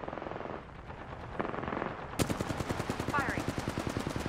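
Video game gunfire arrives as a steady rapid string of automatic shots, loud and close, with a brief game voice and effects over the burst.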